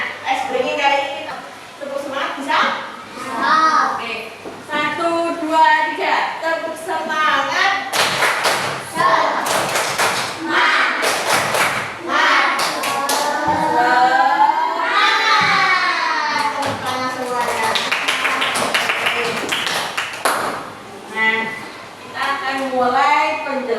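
A class of young students does a rhythmic 'tepuk semangat' clapping ice-breaker, with bursts of patterned hand claps and thumps mixed under steady children's voices chanting and speaking throughout.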